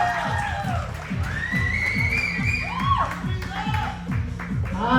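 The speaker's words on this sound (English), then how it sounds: "Let's give her another round of applause, guys." An open mic audience gives a performer another round of clapping and cheering, the crowd noise sitting under a host's loud talking, with a steady low thumping beat running throughout.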